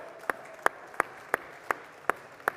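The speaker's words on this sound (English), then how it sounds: "a round of applause please for our esteemed auctioneer, Mr. Thomas Forrester." Sparse applause after a classic car auction at Lake Como: seven distinct, evenly spaced claps, sharp and fairly close, over a quiet room hum.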